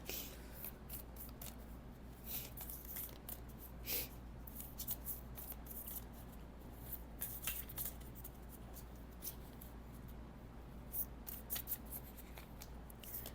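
Soft, papery riffling and flicking of stiff, hard-to-shuffle oracle cards, quiet and close, with irregular bursts of shuffling and no talking.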